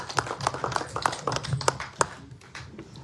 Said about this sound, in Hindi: थडानी साहब के लिए जोरदार तालियां हो जाए